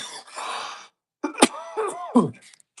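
A man who has swallowed water down the wrong pipe coughs in several sharp, close bursts, with rough throat clearing and brief gaps between the fits.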